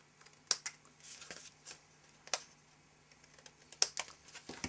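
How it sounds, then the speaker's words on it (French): A few sharp, crisp snips of scissors cutting paper for a Christmas card, spaced irregularly and close by, with soft rustling between cuts and no talking. "À l'aide de mes ciseaux."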